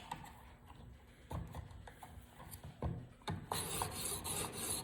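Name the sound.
knife sharpened on finer stone, TSPROF sharpener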